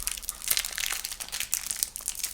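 Crinkly plastic packaging for a keyboard accessory, a keycap cleaning tool for an iQunix S87 mechanical keyboard, being unwrapped up close, with dense crackling and crumpling that continues steadily without pause.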